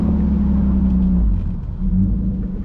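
A BMW E36 with a rough idle from a faulty idle control valve hose rumbles low and steady close by, its tone dipping briefly before settling again.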